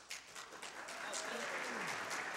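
Audience applause at a barbershop chorus performance, a steady dense patter of many hands clapping at moderate distance, continuing throughout without pause.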